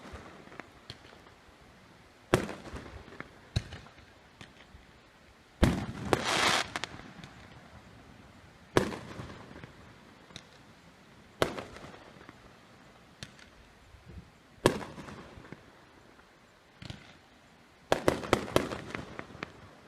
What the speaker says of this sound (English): You always got somebody shooting off fireworks and stuff.